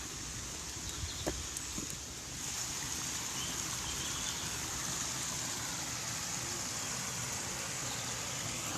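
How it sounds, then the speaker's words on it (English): Small waterfall in a wood, heard as a steady broadband rush of falling water that holds at an even level, with a few faint knocks near the start. "Nice little waterfall."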